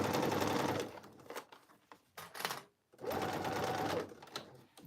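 A sewing machine stitches along the pocket of cargo pants in two steady whirring runs separated by a short pause with faint handling noises, close and fairly quiet.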